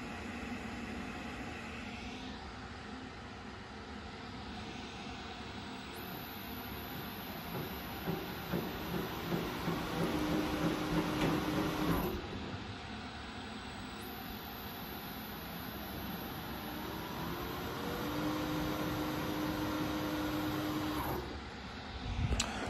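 The feed drive of a custom electric chainsaw slab mill with a 7-foot cut runs slowly, turned by a 3 horsepower 3-phase motor through a gearbox. It gives a steady mechanical hum and whine with shifting high tones and no talk.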